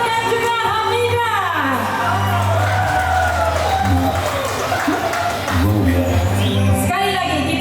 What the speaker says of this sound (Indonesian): Kita berikan tepukan kepada Valentine dan juga Hamida.